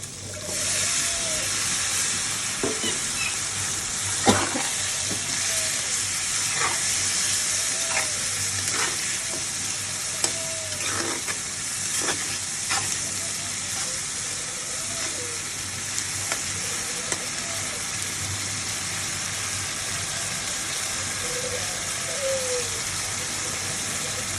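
Chicken fries in oil with ginger, garlic and cumin paste and chili, giving a steady close sizzle and steamy hiss, punctuated by repeated spatula scrapes and knocks from stirring, with no voices.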